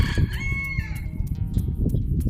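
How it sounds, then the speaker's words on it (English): A rooster crows loudly and close by, one drawn-out cock-a-doodle-doo that rises and then trails off, heard on its own with no talk over it. "Dang rooster. Trying to interrupt my videos."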